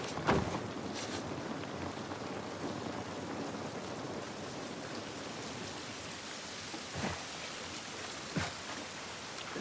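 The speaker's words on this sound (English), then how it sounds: "This rain ain't gonna do us any good." Steady rain falling in The Last of Us Part 1, a constant hiss of downpour on surfaces with a few louder drips and splashes standing out, no speech.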